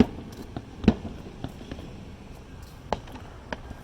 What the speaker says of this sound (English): There's fireworks going off everywhere.